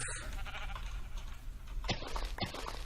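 A sheep in the video game Minecraft bleats, a short nasal bleat or two standing out over a steady background of game ambience.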